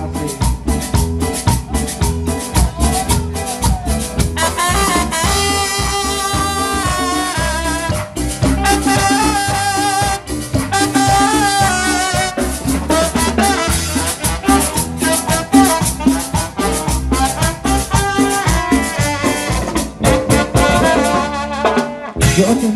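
A song plays loud and continuous, a full band arrangement with a steady driving beat and melodic lines running throughout.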